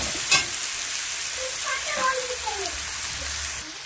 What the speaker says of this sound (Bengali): শুটকি চিংড়ি আমার ভাজা ভাজা হয়ে গেছে